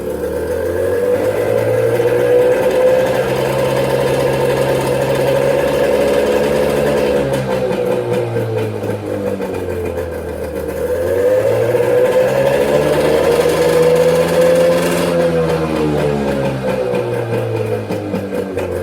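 An engine revs slowly up and down in long smooth sweeps, its pitch climbing and falling twice while it runs steadily and close, with no talking.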